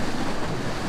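Sea waves washing in at the rocky shore near the Dunseverick waterfall, a continuous close broadband rush of surf mixed with wind buffeting the microphone, with no voices.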